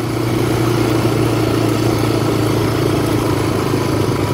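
A four-wheeler ATV engine runs steadily in fourth gear on a muddy trail, its loud, continuous mid-pitched drone close by with no pauses and no talking.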